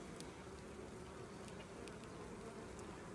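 Honeybees hum around a hive during colony splitting, a steady, dense buzz with occasional individual bees passing close by, no voices.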